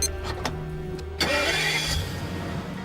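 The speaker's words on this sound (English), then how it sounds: "It allows you to fire up the engine from a safe and sound 100 metres away." A car engine is started from 100 metres away with a remote starter. A brief cranking burst is followed by the engine catching and idling with a rising whine, preceded by a few sharp clicks.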